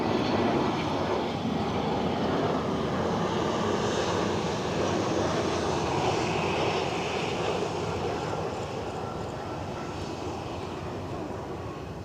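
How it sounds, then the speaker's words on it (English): A Ryanair airliner at Edinburgh Airport produces a loud, continuous jet engine roar that holds steady and eases slightly toward the end, with no voices. "There's an interesting Ryanair that Finley's pointed out."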